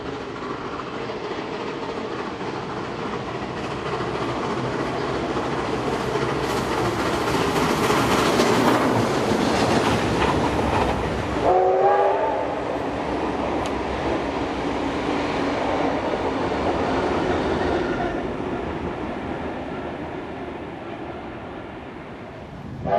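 Locomotive 3237 passes at Petersham, New South Wales, bound for Clyde: a loud, sustained rolling rumble with clickety-clack wheel beats and a brief wheel squeal midway, fading as it draws away.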